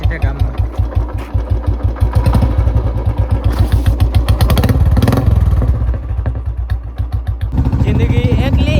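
Close, loud thumping of a Bullet motorcycle engine, idling then briefly revving up midway before settling back to its steady rhythmic beat, with a person talking over it.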